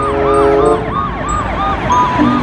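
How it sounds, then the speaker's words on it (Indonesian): A toy ambulance siren wails in a looping up-and-down electronic pattern, loud and close, repeating steadily with no talking. "yang ini adalah mobil ambulans"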